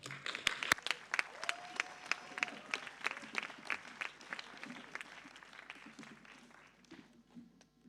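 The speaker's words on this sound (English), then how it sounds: "A round of applause." An audience at a conference event applauds, a steady patter of many hands clapping that fades gradually toward the end, heard from some distance.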